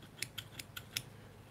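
Surgical scissors snip suture in five crisp, quiet clicks spaced evenly about a fifth of a second apart, with no talking.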